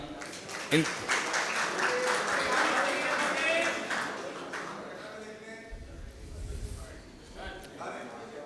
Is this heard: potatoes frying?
no